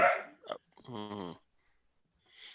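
A dog gives a few sharp barks close by, then a longer whining yelp, with quiet gaps between the sounds.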